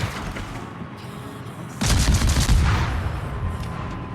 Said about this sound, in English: Now he's firing on the Belfast.